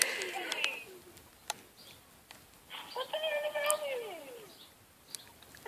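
A pet cat named Kitty meows with a drawn-out, wavering call in the middle, after softer mewing at the start, close by in a quiet room.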